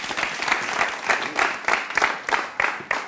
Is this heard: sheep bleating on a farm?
no